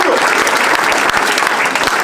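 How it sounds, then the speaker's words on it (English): A comedy club audience breaks into applause, close dense clapping at a steady loud level for a couple of seconds, with murmuring voices underneath. "Round of applause."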